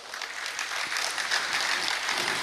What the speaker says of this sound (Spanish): ¿Le das un aplauso a Dios?